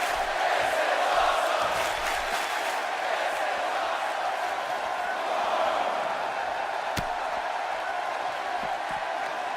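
A professional wrestling crowd in an arena roars and cheers steadily after a wrestler's tope suicida dive through the ropes to ringside, a dense, sustained wall of whoops and shouting throughout.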